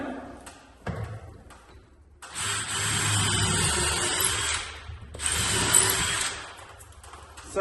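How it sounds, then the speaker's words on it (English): A power drill bores during installation of the spring assembly on a 400-pound aluminum garage door, two sustained whirring bursts after a brief startup, close and loud. "I'm going to drill again."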